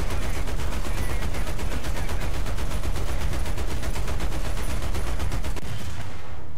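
Loud, relentless gunfire from War Thunder, a dense rapid rattle of shots that never lets up, fills the whole stretch before cutting off abruptly at the end.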